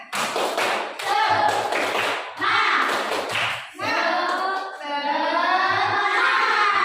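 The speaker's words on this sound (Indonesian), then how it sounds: "Coba sekarang tepuk semangat." Elementary students clap the rhythmic 'tepuk semangat' chant in a classroom, loud patterned hand claps interleaved with chanted children's voices in several bursts.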